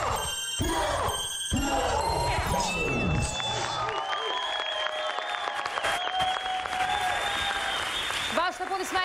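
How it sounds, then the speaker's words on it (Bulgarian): An audience at a televised talent show semi-final applauds after a dance crew's performance, with loud sustained clapping and some cheering, mixed with ringing music tones that fade out partway through. "Вашите аплодисменти за Lions Crew."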